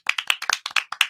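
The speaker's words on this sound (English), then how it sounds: "I want to give him a big round of applause from the jump." A podcast host and guests clap for a poet guest in a small room, about ten sharp, close, distinct claps in quick, slightly uneven rhythm.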